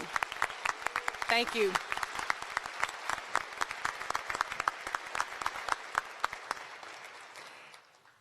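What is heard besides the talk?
audience applause for Dr. Watts at graduation ceremony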